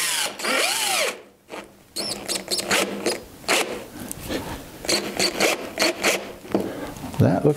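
A power drill drives a screw into wood while building an art clock, its motor whirring in short stuttering bursts close by, with pauses and small clicks between pulls of the trigger.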